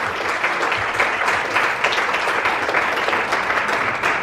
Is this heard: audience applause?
yes